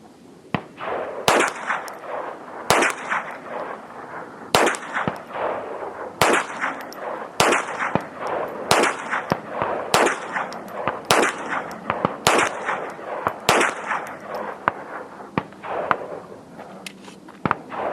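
A .22 rifle fires CCI Mini-Mag and Remington Golden Bullet rounds outdoors, giving a long series of about fifteen sharp, loud cracks spaced roughly a second apart, each with a short ringing tail.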